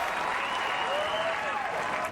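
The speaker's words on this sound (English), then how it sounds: "shows her appreciation with an applause with her back against her bag" Spectators at the 2016 KPMG Women's PGA Championship golf final round applaud steadily, a continuous crowd clapping with a faint whistle or cheer rising through it.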